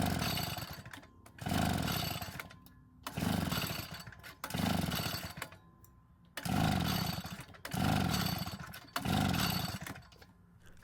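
Vintage Echo leaf blower engine trying to start after priming with fuel: a repeated series of about seven rope-pull cranking bursts, each a second or so long with brief pauses between, close and loud without catching.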